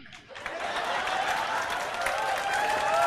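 An audience in a CA Inter auditing lecture claps together, a sustained burst of applause that swells and holds steady for several seconds, with a faint voice in the background.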